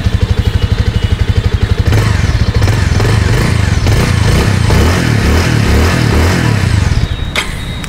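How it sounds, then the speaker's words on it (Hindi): A 2022 Bajaj Avenger 220 Cruise motorcycle idles with a steady, loud, bassy exhaust thump, then is revved into a rougher, pulsing roar for several seconds before settling back down, with no one speaking. "तो काफ़ी अच्छा एग्जॉस्ट नोट भी आपको इसका देखने को मिल जाएगा, काफ़ी बेसी साउंड आपको इसमें मिलता है।"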